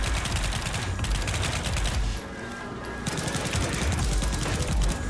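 Rapid gunfire in the zombie shooter game Pathogen X, dense continuous automatic bursts with a short lull partway through, loud and close with no talk.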